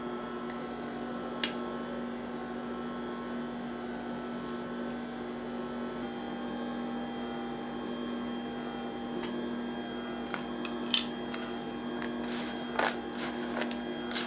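A Philips pasta machine drones with a steady motor hum as it extrudes the last of the dough, with occasional faint clicks and taps over the constant whir.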